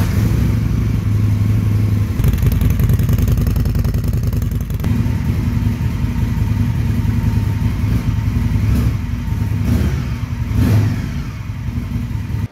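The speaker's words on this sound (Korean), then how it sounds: "시동 한번 걸어볼까요?" An Indian Scout Bobber Twenty motorcycle engine runs loud and close for about twelve seconds, a steady low rumble with revving swells and a brief throttle blip near the end.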